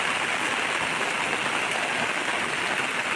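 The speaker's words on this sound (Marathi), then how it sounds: "पुढे अजून पाऊस पडत" Steady, dense rain falls continuously on a Konkan plateau, a broad hiss of drops striking surfaces with no pauses or voices.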